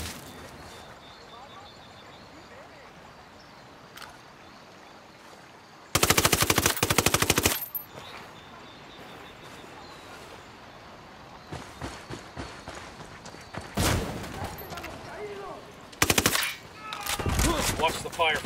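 Gunfire crackles from inside a bunker in Ghost Recon Wildlands. A dense burst of automatic fire is followed by scattered shots and further short bursts, with voices talking in between.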